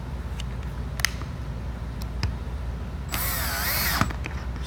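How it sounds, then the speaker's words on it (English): Power screwdriver or drill driving screws into a replacement end part during furniture assembly, one short whirring burst of about a second standing out over steady background noise, with a few faint clicks and knocks around it. "Screw those screws in."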